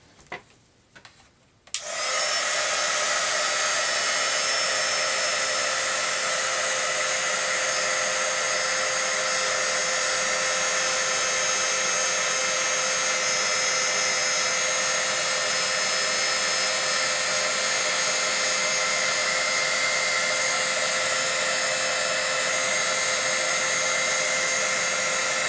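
A heat tool runs steadily and loudly for about 23 seconds, heat-setting embossing enamel with a constant whooshing blower drone that starts abruptly after a couple of faint handling taps.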